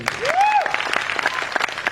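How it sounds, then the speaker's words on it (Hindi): Audience at a Modicare business event breaking into loud applause, a dense crowd clapping that stays steady over the whole stretch, with a rising whistle-like tone briefly sliding up near the start. "एक बार जोरदार तालियां।"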